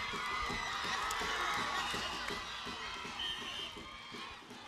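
Spectators at a Caribbean youth netball tournament game between Dominica and Grenada cheer and shout in a continuous, fairly distant crowd roar, with scattered whoops and footfalls from play.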